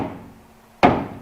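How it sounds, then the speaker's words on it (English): A big rubber hammer strikes a vehicle fuel tank once, a single dull, close thud that decays quickly after a quiet lead-in. "Grab a hammer, big rubber hammer, and come beat on this fuel tank."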